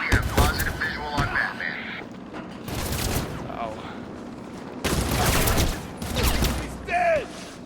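Enemies fire guns in the Batman Arkham City video game: several separate bursts of shots come at irregular intervals, moderately loud, with voices and game sounds between them.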